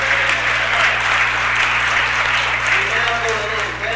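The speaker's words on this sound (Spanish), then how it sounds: "Un aplauso para ellos" Audience applause fills a city council meeting chamber, a steady dense wash of clapping lasting throughout at full, close volume, with a low hum underneath.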